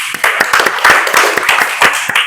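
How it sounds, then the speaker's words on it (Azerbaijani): An audience applauds with dense, rhythmic clapping from many hands, loud and close, sustained throughout without speech. "Ülvini alqışlayırıq."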